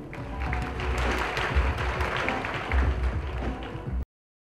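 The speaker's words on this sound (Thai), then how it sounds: "ขอเสียงปรบมือให้ทั้ง30ท่านด้วยค่ะ" Audience applause for the 30 contestants at the Miss Tiffany's Universe 2004 pageant, a steady, dense wash of clapping from a large crowd lasting about four seconds before cutting off.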